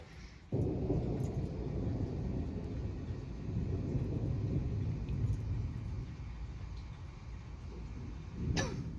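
A deep rumble of thunder during a springtime lightning storm in Sedona, Arizona begins abruptly and rolls on for several seconds, with a sharp crackle near the end.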